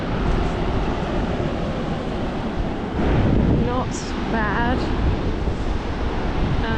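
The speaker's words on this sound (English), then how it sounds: "There's a few little waves out there that we'll be able to get." Small surf waves wash and break at Wharton Beach in Australia, a continuous roar mixed with heavy wind buffeting the microphone. A person speaks briefly partway through.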